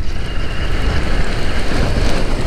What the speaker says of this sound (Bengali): আর কানপুরে ঢুকেই বৃষ্টি শুরু